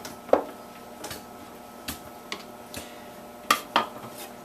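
A wooden spoon pushing pineapple down into a jug for wine, heard as a series of sharp, separate knocks and clinks against the container at irregular intervals over a faint background hum.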